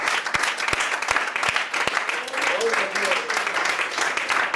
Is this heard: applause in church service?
yes